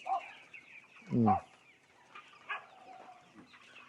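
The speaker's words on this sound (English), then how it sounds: "That's a lot of chickens." Chickens at a roadside market in Vietnam, with several close clucks and squawks, one louder call rising sharply, and quieter clucking scattered around it; no talking.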